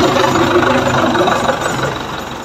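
A tractor engine runs steadily while pulling a seed drill through a field for wheat sowing, its low mechanical drone close and continuous, easing slightly toward the end.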